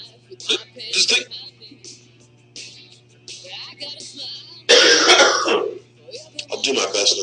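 A few coughs and throat-clearing sounds, close and fairly loud, with a burst of harsh coughing midway, mixed among quiet talking.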